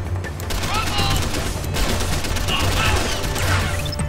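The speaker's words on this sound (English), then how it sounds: "It's time to try out this new gun then." A newly acquired gun fires in Deus Ex: The Fall, dense rapid shots and metallic clatter running continuously for about four seconds, loud and busy throughout.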